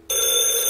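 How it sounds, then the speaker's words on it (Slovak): A telephone rings with a bright, steady electronic bell tone that starts abruptly and holds loud and close for under a second, alone with no other sound. "Vtedy som počul prvýkrát zvuk zvoniaceho telefónu."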